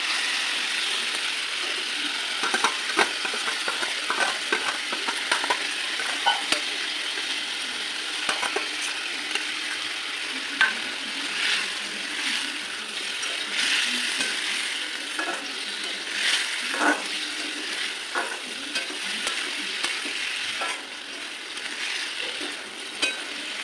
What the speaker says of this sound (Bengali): বন্ধুরা, এবার আলু ফুলকপিটা দিয়ে দেবো।